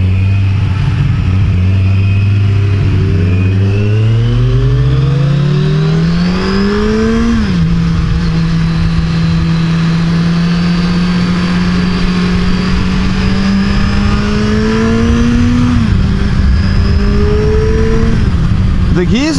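A 2014 Kawasaki Z1000 Special Edition motorcycle pulls hard in first gear, its loud, close engine note rising steadily through quick revs, dipping briefly at shifts, with a rider's voice talking faintly over the roar.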